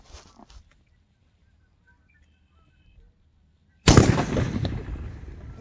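A mini cannon fires once with a sudden loud boom after a few seconds of near silence, the blast trailing into a rumbling decay; faint sounds precede it.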